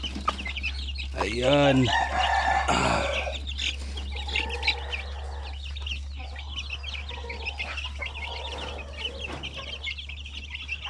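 Native Basilan chickens and chicks on a farm make a loud rooster crow early, then keep up steady clucking and faint peeping over a low hum, while a person briefly speaks.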